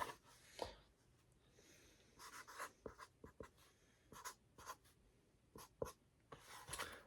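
Marker or pen writing out a physics equation on a board, a run of short squeaky strokes and taps in irregular bursts, close and fairly quiet with no talking.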